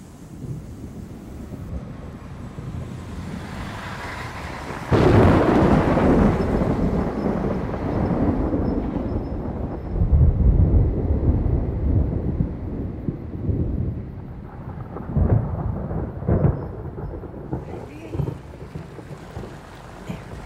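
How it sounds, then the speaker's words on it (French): Thunder from an approaching storm rolls in as a loud, broad rumble that swells and surges in waves over a steady windy roar, with no voices. "La tempête se rapproche."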